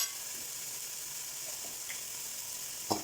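Sliced onions sizzling steadily in a hot pan with turmeric powder for onion rice, a constant close frying hiss with a couple of faint stir clicks near the end.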